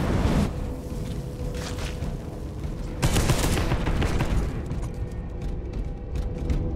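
Covering gunfire in Space Hulk Deathwing, a loud continuous barrage of rapid heavy shots with mechanical clatter, swelling again partway through and sustained throughout.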